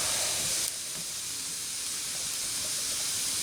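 Bacon frying in a cast iron skillet over a hearth fire, a steady, soft hiss of sizzling fat that flares briefly louder at the start, then settles into an even, continuous crackle with no voices.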